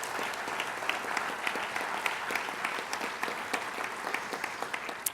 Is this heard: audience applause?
yes